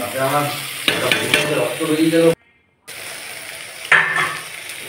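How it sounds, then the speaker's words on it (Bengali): Amudi fish frying in a pan gives a loud, close sizzle with stirring and clattering, broken by a brief silent gap before the frying resumes. "ভালো করে ভাজা হচ্ছে, দেখো আমুদি মাছটাও।"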